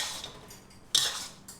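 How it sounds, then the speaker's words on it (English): Bacon and oil go into a wok, giving a soft scrape and then two short bright clatters of utensil on metal, close and brief. "in goes the bacon along with the oil"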